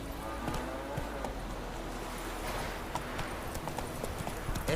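Geralt's horse Roach in The Witcher 3 Wild Hunt on PS5, hooves clip-clopping in a steady rhythmic trot across the ground, close and continuous over soft outdoor ambience, with no talking.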